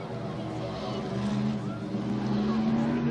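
Race cars circling Bovingdon Raceway, a continuous loud engine drone with a rising pitch as cars pass, heard under a commentator's voice.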